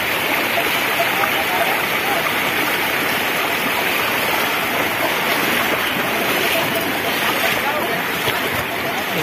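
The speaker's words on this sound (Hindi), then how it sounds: "ये इस रपटे से पानी ऊपर निकल चुका है" Floodwater after heavy rain rushes loudly and continuously over a village causeway, a broad steady roar of strong current.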